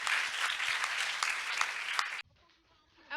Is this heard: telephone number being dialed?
no